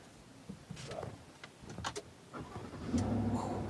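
Push-button start of a 2022 Chevrolet Silverado 1500 Z71 pickup, heard from inside the cab: faint clicks and whirs, then the engine catches and settles into a low idle.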